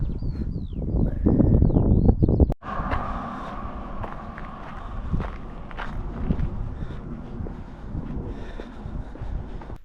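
Steady footsteps along a country road in England, close and rhythmic, with some wind buffeting the microphone and a faint bird call early on.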